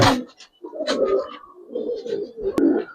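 Main breeding pigeons in a loft coo in soft, throaty, rolling phrases, close and moderately loud, with a brief flutter or tap near the start and no talk over them.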